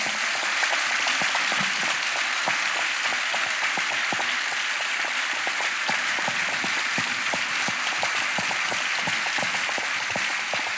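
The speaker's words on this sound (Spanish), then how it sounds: "Le damos un fortísimo aplauso a Santi y a Mariano." A lecture audience gives two speakers a long round of applause, with dense, sustained clapping and sharp individual claps standing out. It stays loud and even for about eleven seconds.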